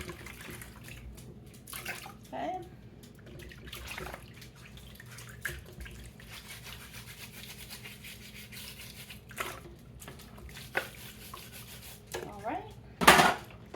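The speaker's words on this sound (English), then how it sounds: "I'm going to wash everything up" Items are being washed by hand in a sink, with intermittent splashes, rubbing and short bursts of running water separated by quieter stretches and a louder gush near the end; a voice briefly speaks.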